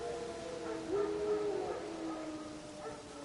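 Wild dogs howl in The Witcher 3 game world, a sustained wavering howl with a rising, sliding pitch near the one-second mark, moderately loud over a steady low ambient game rumble with no talking.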